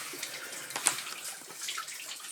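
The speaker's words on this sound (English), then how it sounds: "Plenty of water coming down it, I can hear." Water trickles and splashes down a mine shaft in a continuous faint hiss with occasional brighter splashes, echoing in an underground space.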